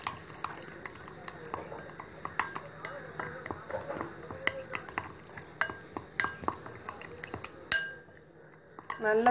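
A spoon clinks and scrapes against a bowl while tandoori chicken marinade with salt and oil is stirred, giving irregular close taps and rattles throughout, with voices faintly in the background.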